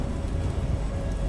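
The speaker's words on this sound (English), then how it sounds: "I realise it's raining and you might get rain in your eyes" Rain falling in the video game Detroit: Become Human, a steady soft patter that stays constant and fairly quiet throughout.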